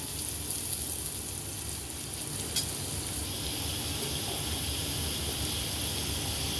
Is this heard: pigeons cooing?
no